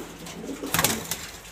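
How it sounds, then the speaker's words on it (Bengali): Pigeons on a pigeon sale premises give soft cooing calls, a few throaty coos swelling into a brief louder burst near the middle before settling back, heard close and without talk. "এখানে অনেকগুলো কবুতর আছে"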